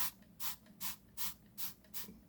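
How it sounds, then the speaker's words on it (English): Six quick spritzes from a spray bottle, evenly spaced in a steady rhythm, each a short close hiss. "give that a little bit of a spritzy spray"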